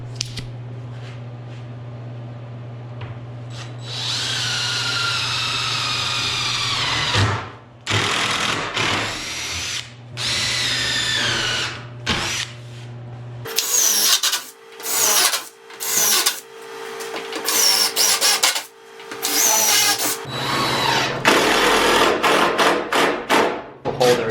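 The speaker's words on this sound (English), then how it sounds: "I need to pre-drill and countersink for the screw head" A power drill whines in repeated bursts, revving up and down as it pre-drills and countersinks screw holes in melamine board, with short pauses and handling noise between runs.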